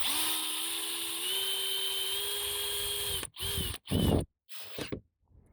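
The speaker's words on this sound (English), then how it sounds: "These drivers come in handy for this." A power driver whines steadily while driving screws to mount an exterior house light, then finishes with several short stop-start bursts before falling quiet.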